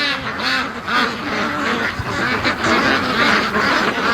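A big flock of Canada geese circles close overhead, many birds honking and calling over one another in a dense, continuous clamor.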